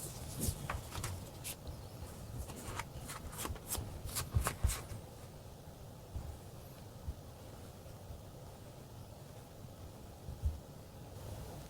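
Tarot cards riffle and shuffle in a quick run of crisp, close slaps and flutters, then the handling quiets to soft card drawing and faint rustles over a low background.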